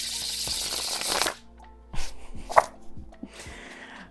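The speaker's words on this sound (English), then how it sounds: "gonna do one last shuffle." A quick riffle of plastic Rider Waite Smith tarot cards flutters for just over a second, then scattered taps and soft clacks of the deck being squared.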